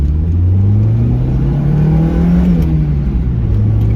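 A Mazda Miata engine, one with a stalling-at-idle fault from a poor earlier repair, drones steadily while driving, close and loud, its pitch slowly rising and falling with no talk over it.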